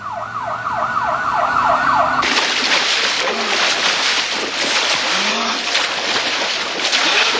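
A loud wailing siren sweeps up and down, then shifts abruptly to a harsher, rapid yelping siren pattern with traffic noise underneath.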